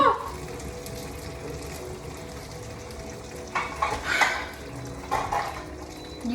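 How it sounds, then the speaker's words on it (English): Boiling water poured onto pasta in a pot, a steady watery hiss and sizzle with a few louder splashing surges near the end. "I like to put boiling water in my pasta"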